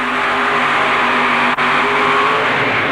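A 1972 Chevrolet 4WD truck pulls a heavy sled at an indoor truck pull, its engine roaring loud and steady throughout with one brief dip.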